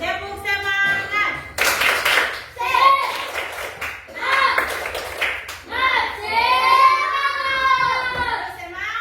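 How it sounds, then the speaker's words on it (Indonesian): A class of children doing a rhythmic spirit clap, bursts of patterned clapping mixed with an adult voice and children chanting along, close and lively. "kita tepuk semangat dulu"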